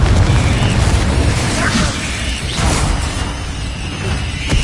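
An explosive Confringo spell bursts in the Hogwarts Legacy video game, a loud booming blast amid dense combat noise and clatter, with a voice calling out over the din.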